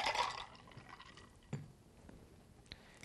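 A Son of Adam brandy cocktail strained into a glass: soft trickling and dripping of liquid with a couple of small clinks, quiet and close, with no talking.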